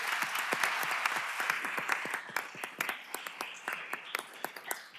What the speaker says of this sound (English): So we want to give you a round of applause